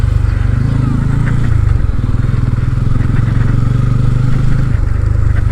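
A three-wheeler runs at the Mawa ferry ghat in Bangladesh. Its engine chugs loudly and steadily with a rattling mid-pitched drone, very close and continuous amid crowd noise.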